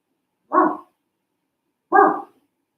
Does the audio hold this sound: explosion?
no